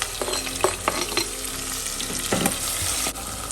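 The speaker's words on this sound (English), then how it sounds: "Now I'm going to add finely chopped onions and 1 split bay leaf." Finely chopped onions and a split bay leaf hit hot oil with whole spices, giving a loud, steady sizzle with bursts of crackling and a few sharp stirring clatters.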